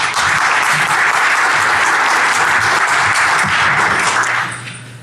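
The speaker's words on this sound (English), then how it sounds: "So let's give a round of applause for Takahiro." At a BlackHat 2013 security conference talk, the audience gives loud, sustained applause for speaker Takahiro, full-room clapping that fades out near the end.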